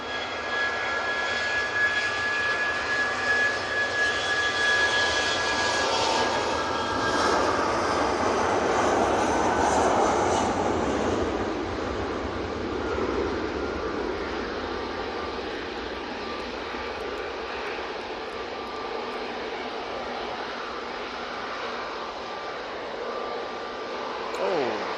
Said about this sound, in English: British Airways are now spooling up for its shuttle flight back to Heathrow